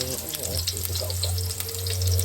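Onion and garlic fry in a pan with a steady, close sizzle running throughout, over a constant low hum, with light stirring scrapes mixed in.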